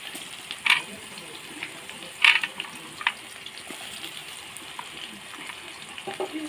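Potatoes and eggplant fry in mustard oil in a wok, making a steady low sizzle with occasional sharper crackles and pops, while a voice talks over it.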